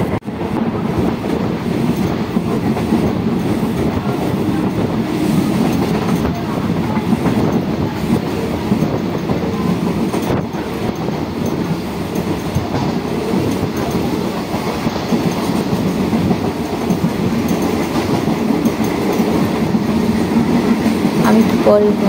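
Namkhana–Sealdah local passenger train running, a steady loud rumble of wheels and carriage noise throughout with faint rhythmic clatter, heard from inside the coach.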